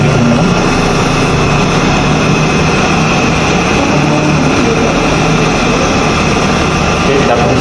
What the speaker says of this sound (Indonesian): Kita bisa mulai menggunakan low terlebih dahulu sampai mata bornya berputar.